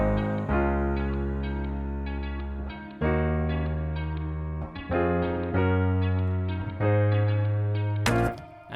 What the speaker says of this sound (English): some shakers and some claps, and we got a bridge.